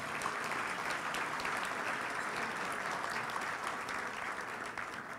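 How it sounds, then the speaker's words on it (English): A seated audience at a Santa Clarita Valley Chamber of Commerce event gives a sustained round of applause, steady dense clapping that holds at an even level throughout and fades slightly toward the end. "Let's give them a nice round of applause for serving our nonprofit organizations."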